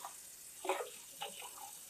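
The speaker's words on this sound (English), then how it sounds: "just start pouring some water in, dilute that lime solution" Water poured into a kitchen sink to dilute a lime solution from soaking Hopi blue corn, a soft splashing that swells briefly twice, close and fairly quiet.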